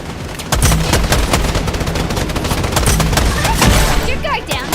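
Dense, continuous gunfire and fusillade bursts from the video game StirNova, loud and sustained with booming low impacts throughout, plus faint electronic chirps near the end.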